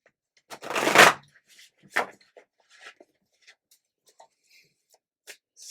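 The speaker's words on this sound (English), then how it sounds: "You and the card shuffling." A deck of playing cards is shuffled in one quick riffle burst, followed by soft scattered card handling clicks and taps in a quiet room.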